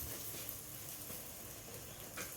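Egg-stuffed puri frying in hot oil in a pan, a steady soft sizzle and bubbling that continues evenly throughout at a moderate close distance, with no voices.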